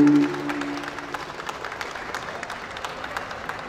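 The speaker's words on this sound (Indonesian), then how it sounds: "Ya, kita beri tepuk tangan yang paling meriah." An indoor audience gives a lively round of applause at the opening of the Dumai Property Expo 2025. The steady clapping follows a short tone and holds at an even level throughout.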